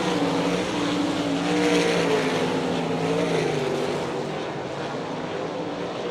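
World of Outlaws sprint car engines roaring down a dirt track straightaway at Hartford, Ohio, one car's engine running off song, a loud continuous racing drone that swells and fades slightly without commentary.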